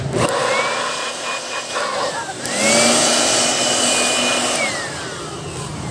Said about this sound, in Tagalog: Blower na, sapat na.